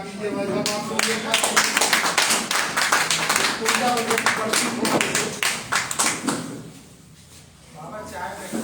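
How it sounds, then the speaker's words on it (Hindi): Audience applause at a Hindi literary gathering or reading event, a dense run of sharp claps for about six seconds, fairly close and loud, then thinning out near the end with some talk in the room. "तालियां बजा दीजिए भाई साहब,"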